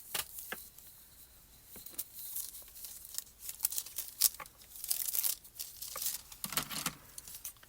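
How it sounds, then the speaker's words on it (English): A small piece of foil is cut and handled for a card sentiment in a papercrafting session, giving close, crisp crinkling and tearing rustles in scattered bursts with quiet gaps between. "we're just going to cut a little piece of foil"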